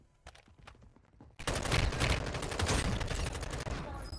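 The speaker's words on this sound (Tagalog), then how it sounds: "Oh, may bumabaril sa likod ko." Gunfire in the mobile shooter Warzone Mobile, a few faint isolated pops that break into a loud dense burst of rapid shots coming from behind and continuing to the end.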